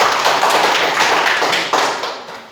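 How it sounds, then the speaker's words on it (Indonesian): Brief round of hand clapping from a group of teachers at a school gathering, a quick flurry of claps that tapers off after about two seconds. "Tepuk tangan buat dia dulu."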